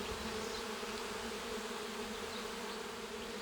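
Honey bees hum inside an opened hive body while frames are checked, a dense, even buzz of many insects holding steady and close throughout.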